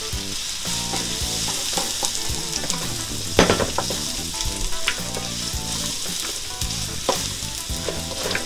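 Garlic, onion and carrot sauté in a quarter cup of oil for a shrimp chow mein with Chinese cabbage, giving a loud, steady sizzle broken by clacking stirs and utensil scrapes, with a sharper burst of clatter partway through.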